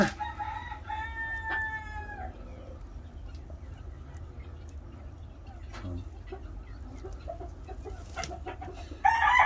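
A farm hen squawks loudly and frantically in a shrill burst at the start, then lets out scattered clucks and calls over steady background noise, ending with a sudden louder clatter.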